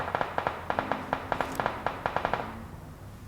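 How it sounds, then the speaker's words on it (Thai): Gunfire in the PUBG Mobile battle royale game: a rapid run of about twenty sharp, fairly loud shots in short bursts with brief pauses, fading at the end. "เอ๊ะทำไมได้ยินแต่เสียงปืน"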